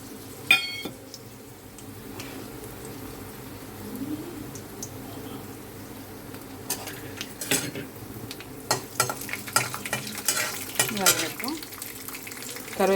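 A tempering of mustard seeds, urad dal, cumin, dried red chillies and garlic cloves frying in oil in a kadai for gongura chutney, with a soft continuous sizzle, intermittent crackles, and scraping stirs growing busier toward the end.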